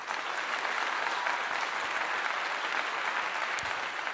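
Sustained applause from an audience for Colorado player Travis Hunter after his last game, a dense, even wash of clapping heard up close with no voices over it, holding steady throughout.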